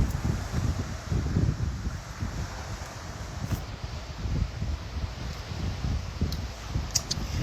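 Wind blowing in Baguio, a steady broadband rush of air buffeting the microphone with gentle swells and rustling, loud and continuous with no talk.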